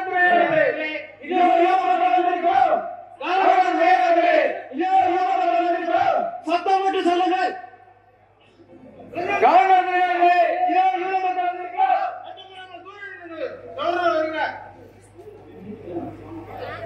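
A crowd of actors in a Tamil Passion play shouts and clamors in repeated loud bursts of many voices, pausing briefly before surging again, with amplified speech and a steady low hum underneath.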